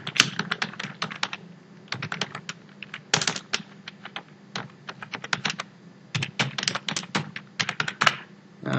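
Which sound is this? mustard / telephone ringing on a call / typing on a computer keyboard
typing on a computer keyboard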